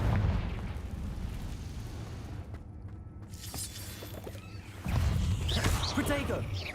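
Confringo blasting spell from a Harry Potter video game bursts with a sharp crackling explosion and rumbling debris, heard amid ongoing game noise while a voice calls out spell names.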